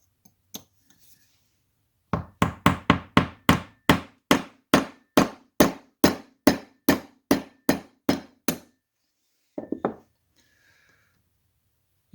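A hammer taps a punch to drive out the firing pin of a Remington Model 31 shotgun: about fifteen sharp, evenly spaced metallic strikes in a steady rhythm, then a brief cluster of lighter taps near the end.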